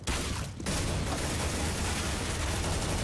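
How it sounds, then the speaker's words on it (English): Continuous rapid gunfire from a Counter-Strike: Global Offensive match, dense and loud for nearly the whole stretch after a brief dip, with no voices over it. "I'm shooting my teammates."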